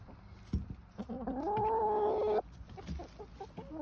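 A chicken clucks inside a small backyard coop, with one drawn-out, tonal squawk rising over scattered short clucks and rustling at close range.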